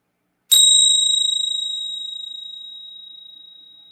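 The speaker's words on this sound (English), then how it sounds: "in a moment, I'll ring the bell" A single meditation bell is struck once, a bright clear ding that rings on alone and slowly fades over several seconds.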